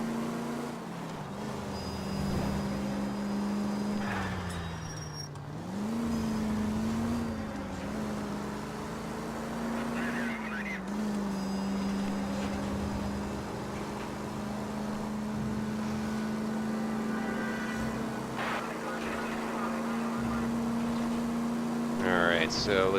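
Car driving in L.A. Noire, a steady engine drone that rises and dips with throttle changes across the whole stretch, with a few brief knocks and screeches and a person talking over it.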